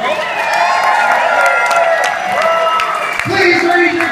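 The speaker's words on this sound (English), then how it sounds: "Ladies and gentlemen, raise your glasses and clap your hands for our couple." Wedding guests applaud and cheer for the couple at a reception toast, a loud, sustained crowd of clapping and whoops with voices mixed in throughout.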